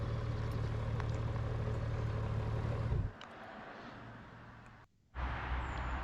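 A heavy 350 kg motorcycle engine idles with a steady low rumble while parking at the edge of a forest, then drops to a quieter note, cuts out briefly and returns.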